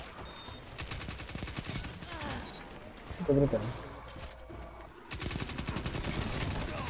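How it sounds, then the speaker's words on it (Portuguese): In a video game, bazooka blasts mix with bursts of gunfire. Dense, continuous rapid shots and booms come loud and close, while players talk excitedly over the noise throughout. "Ah, deu um tiro de bazuca agora."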